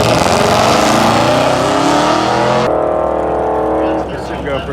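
A loud race car roars through a burnout at a race week drag event, its engine screaming at high revs with a sharp pitch shift partway through as it eases off.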